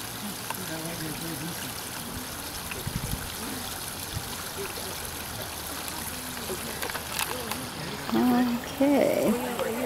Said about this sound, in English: you see they got a nice little waterfall